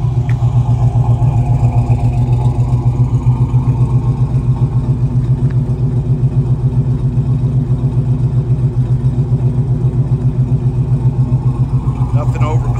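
A 1966 Chevrolet Chevelle engine idles steadily and close up, a continuous low rumble with light mechanical clatter running evenly throughout, with no talk over it.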